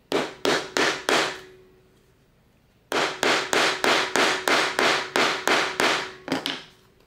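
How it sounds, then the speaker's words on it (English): A hammer strikes metal bag hardware into a leather tote resting on a granite slab. Four sharp, ringing blows come first, then a pause, then a quick run of about ten more. "And then hammer it in."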